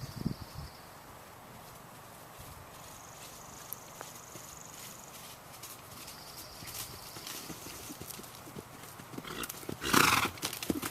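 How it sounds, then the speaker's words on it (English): Horse hooves clip-clopping at a canter in a riding arena during a dressage clinic, a soft steady rhythm under outdoor ambience with crickets, a louder scuffle near the end. "Down here at F, between F and A, we're asking for a canter again."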